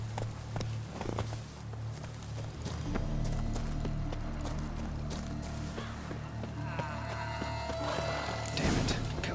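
Roach the horse from The Witcher 3: Blood and Wine gallops with a quick, rhythmic clip-clop of hooves, close and prominent over game ambience, while a voice speaks partway through.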